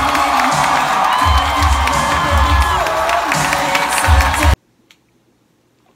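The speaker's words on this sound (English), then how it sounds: "They come up to ruckus applause" A large live audience at a Game Grumps Live show cheers and applauds loudly and steadily as the hosts come on stage, with dense crowd noise and whoops for about four and a half seconds, then cutting to near silence.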